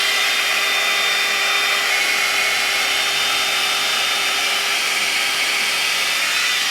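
Revlon One-Step hot air brush blowing steadily through curly hair, a constant loud whirring airflow hiss with no talk over it.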